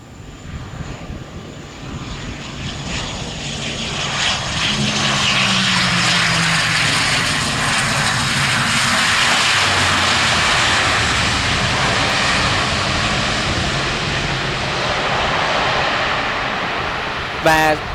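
A Vasco ATR-72-500 turboprop landing on runway 07L at Tan Son Nhat in strong gusty wind, its loud propeller and engine roar steady and close throughout, with some wind buffeting.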